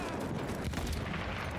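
Anti-tank gunfire in Battlefield 1 rumbles as a dense, continuous barrage of heavy booms and crackling blasts, loud and close, blending into a thick wall of battle noise.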